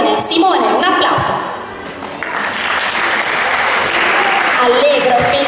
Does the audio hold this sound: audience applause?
yes